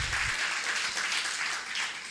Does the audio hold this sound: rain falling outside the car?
no